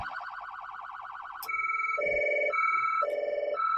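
Rapid electronic warbling phaser tone from a Ford Bronco chief's emergency response vehicle siren, fast and pulsing for about a second and a half, then switching to a loud alternating two-pitch electronic tone, close and without speech.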